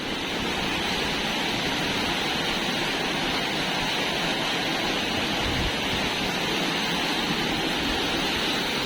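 Rushing stream near Ubot Falls in the Maria Aurora eco-tourism area of Aurora: a constant, loud, broadband roar of water, close by and unbroken throughout, with no voices.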